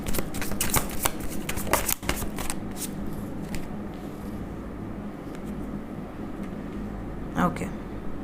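Tarot cards shuffled and drawn from a deck, a run of crisp riffling snaps and papery slides up close, busiest at the start and then sparse soft handling, with a brief burst of flicks near the end.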